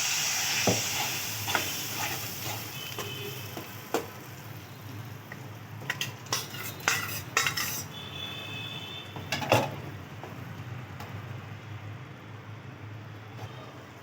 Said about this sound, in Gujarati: હવે આપણે વટાણાનો રગડો એડ કરીશું